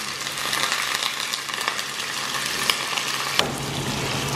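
Lard and chopped cheiro pepper frying in a pan, with a steady close sizzle and a few sharp pops spattering through it.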